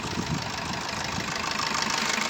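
Diesel engine of a 2016 Maruti Suzuki Swift Dzire VDI idling under an open bonnet, a steady close rumble with a faint knocking clatter running evenly throughout.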